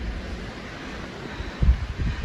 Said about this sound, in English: It's in the 40s and windy